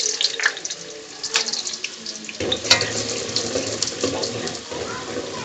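Sliced onions sizzle as they drop into hot oil for a besan salan: a sharp crackling burst hits midway, then a steady loud hiss and spatter carries on close to the pan. Someone speaks quietly over the first part.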